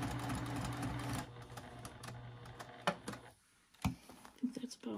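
A sewing machine stitching a small zipper pouch runs in a quick steady whir, then stops. Afterward a few isolated clicks and knocks of handling follow, with some quiet talk in between.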